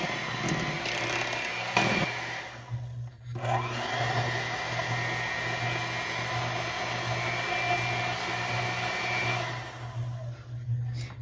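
An electric hand mixer beats vanilla pound cake batter with a steady, close motor whir that runs almost the whole time, dipping briefly near the start. No one talks.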